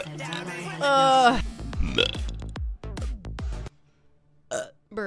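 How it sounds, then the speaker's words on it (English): Loud, drawn-out belching erupts among excited voices, followed by shorter gulping burps and choppy sounds, with more talk and a final quick burp near the end. "Burp instead."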